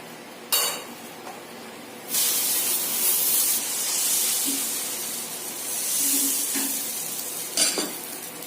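Batter spreads and sizzles on a hot pan for a crispy dosa, with bursts of loud hissing between quieter stretches and a few utensil scrapes and clicks nearby.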